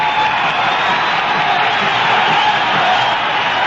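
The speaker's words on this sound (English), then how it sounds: "And these fans start applauding again." Baseball crowd in a stadium applauding and cheering, a steady dense wash of clapping and cheering voices that holds level throughout, loud and without pause.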